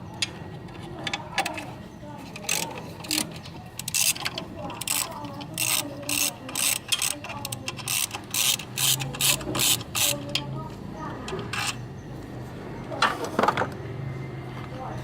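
Nuts on a Honda CBR150 motorcycle tightened with a ratchet, giving rapid bursts of close, sharp clicking in quick repeated strokes, with someone speaking at times between them.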